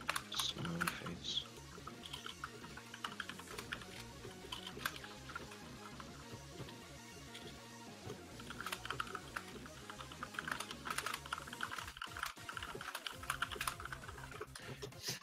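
Rapid, continuous clatter of fingers typing on a computer keyboard close to the mic, with irregular bursts of keystrokes and faint talk in the background.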